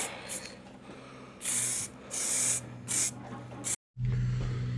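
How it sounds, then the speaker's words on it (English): Several short hissing bursts of aerosol spray onto a bike fork leg, each lasting under a second, separated by quiet gaps, with a brief silence near the end. "Just a nice even spray on there, not too much."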